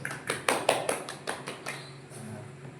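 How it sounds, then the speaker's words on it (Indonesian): A small classroom group claps for Mas Azaz during a micro-teaching lesson: a short burst of scattered, fairly quiet claps that thins out and fades within about two seconds. "Tepuk tangan buat Mas Azaz."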